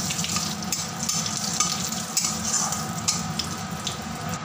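Panch phoron and three dried chillies fry in a spoonful of mustard oil with a continuous, fairly loud hissing sizzle and a few faint clinks, no voices.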